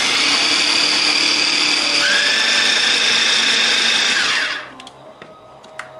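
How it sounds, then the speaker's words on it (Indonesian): An electric chopper grinds bird's-eye chilies and shallots with a loud, steady motor whir that shifts pitch partway through, then cuts off, leaving a few faint clicks and knocks. "sekarang mau kita giling pakai chopper"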